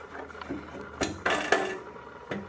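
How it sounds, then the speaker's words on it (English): A bandsaw stand's bottom cabinet door clunks and rattles open, with a few knocks and a louder scrape-and-thud of wood and metal, close by in a quiet room. "So if we take the bottom door open,"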